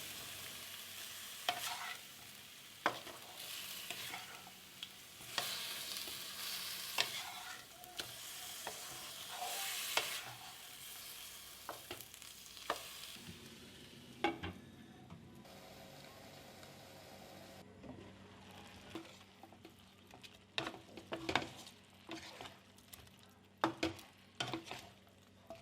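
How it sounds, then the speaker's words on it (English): Chicken with dried bamboo shoots, dried red chili and salt cooks without oil over a low flame in a covered pan: a faint, steady sizzle broken by scattered utensil knocks and scrapes. "Stir them well. Cover and cook it for 10 minutes on a low flame."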